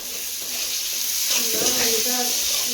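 Spices frying lightly with salt and turmeric for a river magur catfish dish give a steady close sizzle, which swells and crackles more as they are stirred partway through.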